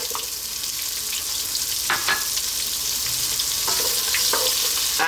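Chopped onion hits hot oil in a pot already holding whole spice seeds, frying with a steady close sizzle and a few sharp crackles and stirring scrapes, no talking.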